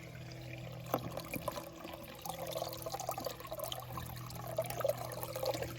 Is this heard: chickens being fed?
no